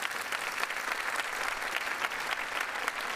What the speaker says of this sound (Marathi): कृष्णाजींसाठी एकदा जोरदार टाळ्या झाल्या पाहिजेत